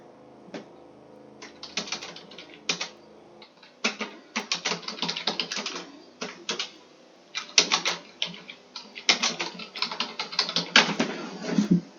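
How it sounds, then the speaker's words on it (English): Fast, irregular typing on a computer keyboard, close and crisp, with bursts of rapid key clicks separated by short pauses over about twelve seconds. "If y'all are hearing me typing, that's the new running order."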